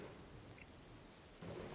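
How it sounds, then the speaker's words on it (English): Steady rain falls in the Dawn of Man video game, a soft continuous hiss that swells louder near the end, with faint rumbling underneath. "And it's raining as well."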